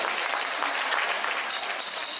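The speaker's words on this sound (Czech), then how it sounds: "To je potlesk do tebe." Theatre audience at a stage show gives a continuous round of applause, dense clapping heard somewhat distant and fairly quiet, with no talking over it.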